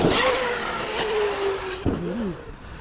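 A Traxxas X-Maxx RC car with a Castle motor combo on Sledgehammer tires, its high electric whine sweeping up and down as the throttle is punched, close and busy, with tire scuffs and a bump partway through.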